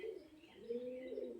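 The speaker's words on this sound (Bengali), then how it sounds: "এটা হচ্ছে মাদা পায়রা।" A pigeon gives soft, low coos in two brief phrases, faint and somewhat distant, with no talking.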